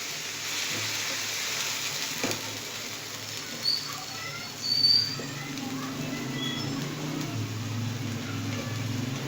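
Vegetables with red chilli, black pepper, cumin and soy sauce cooking in a pan give a steady, soft sizzle and crackle that runs throughout at low to moderate level, with a few brief louder spatters and some faint background noise.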